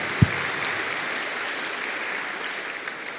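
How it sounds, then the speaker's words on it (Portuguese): Steady applause from a church congregation at a Sunday Advent Mass, a dense even wash of many hands clapping that fills the whole stretch at moderate distance, with one sharper knock near the start. "Uma salva de palmas para Deus e para São Pedro"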